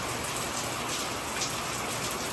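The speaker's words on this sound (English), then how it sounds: "It's pouring." Heavy rain pours down steadily during a tropical storm, a dense, unbroken roar of drops hitting surfaces close by, with no voices over it.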